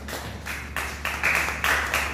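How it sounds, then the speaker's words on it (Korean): A small youth worship congregation in a church claps in a few short, uneven bursts, fairly close and moderately loud over a low background hum. "박수 쳐주세요"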